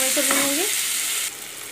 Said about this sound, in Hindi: अब मैं इसमें डालूंगी लहसुन अदरक का पेस्ट 1 चम्मच, और इसे मिला लूंगी और भूनूंगी